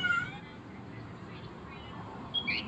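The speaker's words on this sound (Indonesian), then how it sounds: "ada suara kucing ya." A cat meows faintly in the background a couple of times during a Samsung A50s LCD screen replacement, with low room noise throughout.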